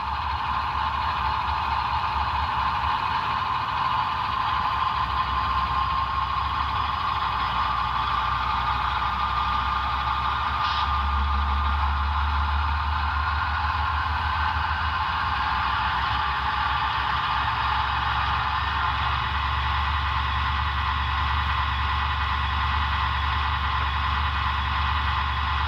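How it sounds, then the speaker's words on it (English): A Broadway Limited Imports Paragon 3 sound decoder in a model ES44AC diesel locomotive plays a steady engine drone that ramps up in low rumble and back down, with a constant hum throughout. "F5 ramps the diesel engine up and down."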